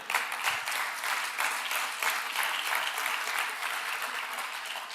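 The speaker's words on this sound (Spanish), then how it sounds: "Dele un fuerte aplauso al Señor" A church congregation at a Spanish-language service claps together in dense, continuous applause, many hands close and even throughout, with no voices over it.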